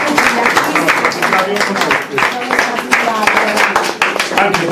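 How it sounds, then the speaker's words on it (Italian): An audience at an art gallery tribute exhibition claps for the artists, with dense, continuous applause filling the room throughout. "quindi farei un applauso agli artisti."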